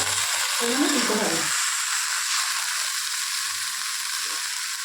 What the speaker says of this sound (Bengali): দেখুন তেল দিয়ে নুন দিয়ে ভাজা ভাজা করে নিচ্ছি